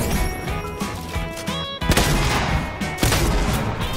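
Video game gunfire crackles in rapid, loud bursts and overlapping volleys, with a heavier crash of shots partway through.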